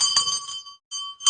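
A hand bell rung during a lit lamp offering to Swamiji at a Nithyananda Purnima worship program rings steadily and brightly, breaks off for a moment, then resumes with a fresh strike.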